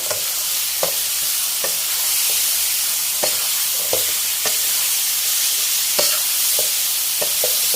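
Catfish stir-fries with red curry paste, sliced red chili, basil, kaffir lime leaves and green peppercorns, a loud continuous sizzle punctuated by regular spatula knocks and scrapes every second or so; no speech.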